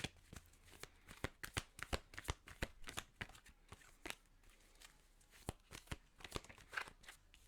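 Oracle cards being shuffled and drawn, a dense run of sharp papery snaps and riffles in quick irregular bursts, close and fairly quiet, with no talking.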